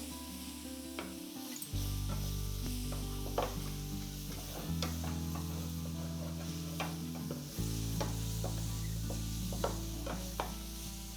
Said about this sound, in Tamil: நல்லா வதங்குற வரைக்கும், கொஞ்சம் ப்ரௌனிஷ் ஆகிற வரைக்கும் விட்டோம்னா நல்லாயிருக்கும்